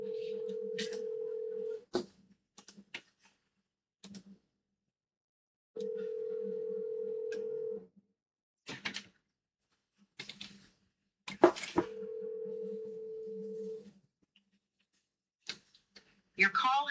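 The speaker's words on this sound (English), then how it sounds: "Let's make a phone call." A phone call is placed: three separate bursts of a steady dial or ringback tone, each about two seconds long with silence between them, broken up by short clicks and brief bits of other noise.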